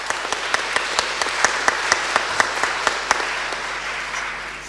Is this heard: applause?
yes